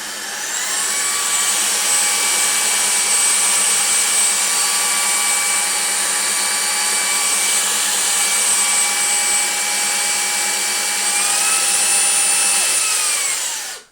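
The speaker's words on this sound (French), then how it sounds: "On va voir maintenant si l'aspirateur est capable de l'éliminer." A Jimmy HW10 vacuum cleaner sucks up dried yogurt, running steadily with a high whining motor tone, loud and close, its pitch dipping briefly near the end before it switches off.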